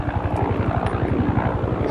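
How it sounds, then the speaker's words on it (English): A helicopter flies overhead outdoors, its rotor blades chopping in a fast, steady rhythm under a broad engine roar that stays loud and close throughout. "Helicopter."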